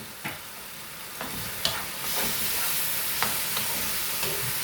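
Masala spices fry in hot oil in a pan for a Kerala-style tuna dry curry, a soft continuous sizzle with a few sharp clinks of a spoon stirring, close and fairly quiet.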